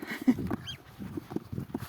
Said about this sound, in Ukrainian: у нас є п'ятеро гусеняток